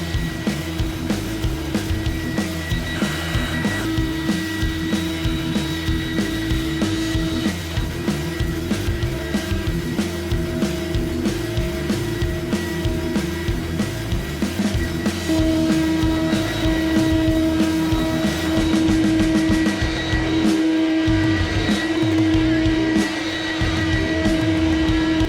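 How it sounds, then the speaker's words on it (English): CNC router machining a chestnut wood slab for a wine rack, a steady loud mechanical drone with a constant whine, continuous throughout with no talking. "To make this wine rack, it all starts with CNC machining."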